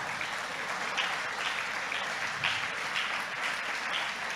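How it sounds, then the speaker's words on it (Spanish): A church congregation applauds steadily for several seconds, a dense and even wash of clapping in a large room with no voices over it. "damos un aplauso"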